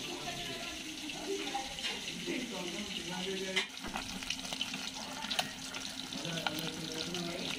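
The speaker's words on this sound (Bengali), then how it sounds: "মাছটা এখন ভাজা হোক" Fish fries in oil in a pan over a wood-burning stove, giving a steady, fairly quiet sizzle and crackle throughout with small spits and pops.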